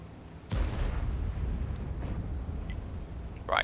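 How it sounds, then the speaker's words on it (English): A single heavy artillery boom from a World of Tanks battle, sharp at onset and fading into a low rumble, with faint game sounds and a brief burst near the end. "Oh, there's the artillery."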